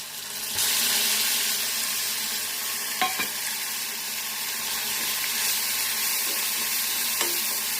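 A ground paste of green chili, coriander and salt frying in a pan, giving a loud, steady hiss that starts abruptly and holds throughout, broken by a few faint scrapes of a utensil.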